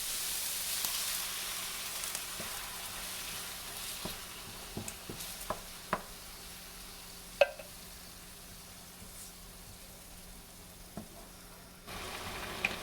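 Fresh cut pineapple sauteing in a pan gives a soft, steady sizzle with scattered light clicks and scrapes of stirring, fairly quiet and close.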